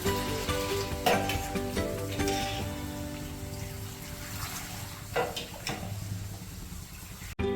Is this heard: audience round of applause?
no